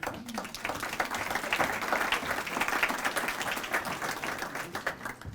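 Steady applause from an audience, dense clapping sustained throughout at an even, moderate loudness.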